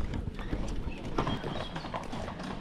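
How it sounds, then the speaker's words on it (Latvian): A working horse pulling a cart clip-clops along in a steady, moderately close hoof rhythm with no talk over it. "Uz zirdziņu pajūdziņu piebrauca skaistulīši. Darba zirdziņu, jā, darba zirdziņu."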